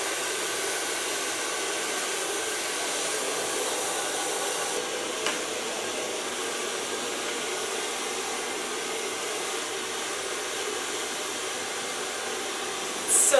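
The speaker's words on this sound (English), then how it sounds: "So far blow drying." A hair dryer blows steadily on platinum blonde hair, a constant airy whir that holds at an even level throughout with a brief clatter at the very end.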